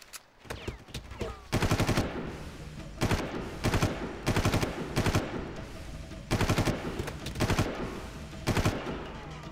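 Repeated short bursts of automatic gunfire in a Far Cry video game, evenly spaced volleys of loud rattling shots over a low ambient background.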